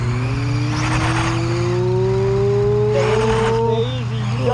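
Four-wheel-drive trucks with all four hubs locked strain against each other in a tug of war, engines droning loudly and revving higher with a steady rising whine throughout.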